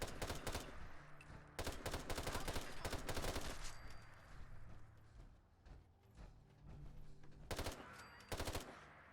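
RU556 assault rifle firing in the Fallout video game, several rapid automatic bursts of sharp cracks with short pauses between, fairly loud and close.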